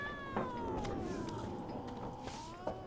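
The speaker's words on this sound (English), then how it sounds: "That cat really doesn't like me." A cat meows in The Witcher 3, a drawn-out, wavering call sounding close and fairly clear over a low game ambience, with no talk in between.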